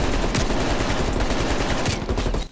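Sustained rapid automatic gunfire from a Call of Duty Black Ops Cold War firefight, loud and dense with continuous bursts and heavy low-end rumble for about two seconds before cutting off.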